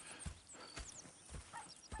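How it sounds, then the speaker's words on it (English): Horses in the Red Dead Redemption 2 video game: soft, close hoof clops at an uneven walking pace, with faint snorts and whinny-like sounds around them. "Go check the horses are ready."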